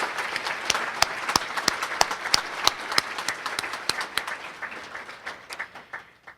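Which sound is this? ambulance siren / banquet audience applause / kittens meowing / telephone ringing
banquet audience applause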